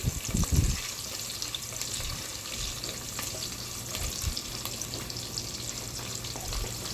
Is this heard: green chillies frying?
yes